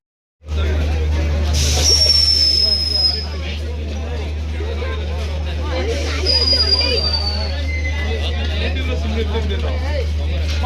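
A train pulls into Yesvantpur railway station with a steady low rumble under the platform crowd's chatter, and faint high squeals rise twice as it comes in.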